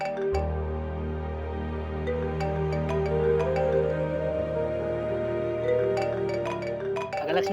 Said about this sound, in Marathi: फोन वाजतोय की तुझा